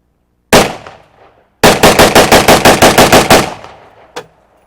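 A Polish AK47 rifle firing loud, close shots: a single round, then a rapid burst of about a dozen rounds in quick succession, and one more faint crack after a brief pause.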